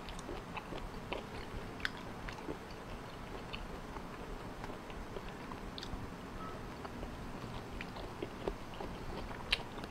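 Someone chews raw shellfish with crisp, crunchy bites, close up, small irregular crackles and snaps over a soft, steady mouth noise.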